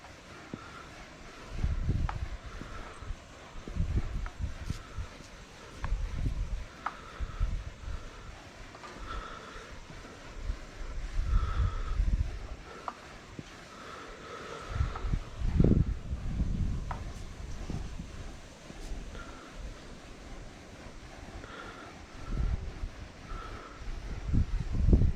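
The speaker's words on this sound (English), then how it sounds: "The wind keeps changing directions." Gusty outdoor wind at a stamped concrete site, rumbling low and rising and falling in uneven surges across the whole stretch, with no one talking.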